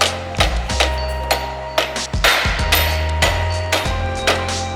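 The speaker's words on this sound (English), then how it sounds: "Grab the rubber mallet and just start gently tapping it in." A rubber mallet gently taps BMX crank spacers into place on Merritt Battle cranks, about a dozen close, dull knocks at an uneven rhythm with low ringing resonance between them.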